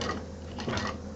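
A sewing machine runs gently and steadily while stitching a simple fabric sling bag, a quiet continuous mechanical whir with a faint ticking rhythm and a brief swell near the middle.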